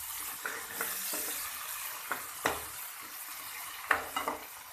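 Green chilies and tomatoes being stirred in a frying pan for an aloo bhujiya, a soft sizzle underneath with scattered scraping clicks of a spoon against the pan, close and fairly quiet.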